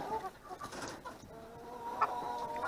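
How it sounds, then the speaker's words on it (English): A rooster born without one eye clucks on a farm, a few short nearby calls rising over low yard noise. "There's a rooster with one eye, never had an eye when he was born."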